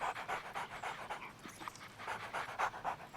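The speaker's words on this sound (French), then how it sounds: "Ils sont à vous, ces deux chiens?" Two dogs panting in a steady rapid rhythm, close by and fairly quiet, heard alone without talk, during an outdoor dog walk in an animated French children's cartoon.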